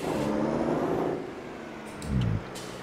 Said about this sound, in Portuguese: No Volvo aqui na parte de fora, uma coisa que eu percebi é que quando você troca a marcha, eu consigo ouvir mais o som do câmbio.